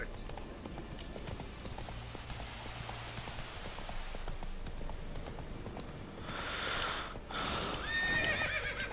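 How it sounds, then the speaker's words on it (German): A horse in The Witcher 3 game world whinnies and gallops with quick clip-clop hoofbeats against a continuous outdoor ambience, the neigh rising clearly near the end. "Da kommt ein Pferd aus der Sträucher."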